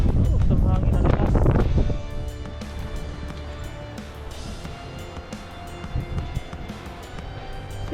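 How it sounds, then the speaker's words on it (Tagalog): Strong typhoon wind under storm signal number 3 roars steadily across the microphone in rain, with a loud gusty burst early on, then continuous rushing noise and faint background voices. "Ang hangin na lakas."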